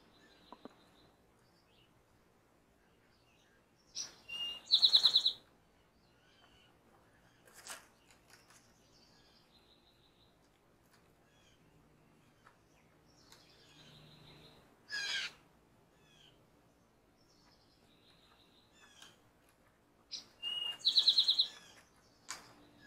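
Songbirds give short, high chirps in a few separate bursts, sharpest near the middle and end, against a quiet outdoor background with faint rustling.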